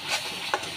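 Spice masala with turmeric and cumin powder fries and is stirred in a pan. Brief close scraping and a soft sizzle are heard, with one quick stir accent midway.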